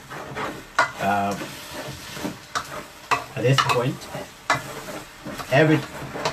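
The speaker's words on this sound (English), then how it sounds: "So as you can hear the sound now, this water will help to start giving the okra the boiling point" Water in a pot of okra stew heats toward a boil, giving a steady simmering sizzle. Intermittent scrapes and clinks of stirring against the pot come and go, and there is no talk.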